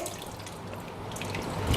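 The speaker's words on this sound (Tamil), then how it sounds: "இப்போ கடைசியில் நம்ம இந்த புளித்தண்ணி ஊற்றுறோங்க" Tamarind water being poured into a pot of bitter gourd sambar gives a steady liquid pour and splash that grows a little louder toward the end.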